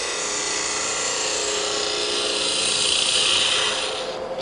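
A woodturning gouge cuts backward into a spinning box blank on a lathe while hollowing the inside, producing a steady, loud hissing scrape that rises slightly in intensity before easing off at the end.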